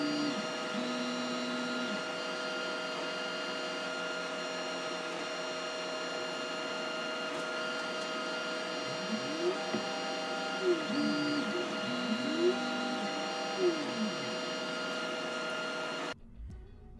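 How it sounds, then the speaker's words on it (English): Anycubic Photon Mono resin 3D printer running up close with two other printers in the background: a steady hum with sustained tones, gliding motor whines rising and falling, and a sudden stop near the end. "Here's a small sample of how this printer sounds with two other printers running in the background"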